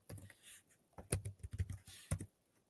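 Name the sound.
typing on a computer keyboard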